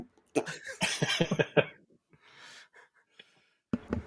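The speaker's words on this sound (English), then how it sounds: "here's me trying to not cough" A person coughs in a burst of several harsh, close coughs, then gasps and breathes during a pause, and a few more coughs follow, loud and unaccompanied by speech.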